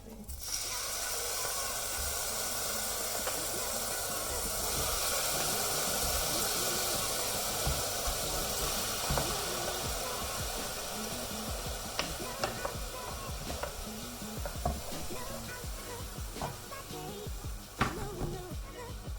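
Tofu frying in a pan with garlic for a curry gives a steady, close sizzle that runs throughout, with a few light clicks and scrapes from stirring near the end.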